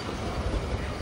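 A freight train passing close by, a brief dense rumble of rolling wagons with a heavy low roar and no voices.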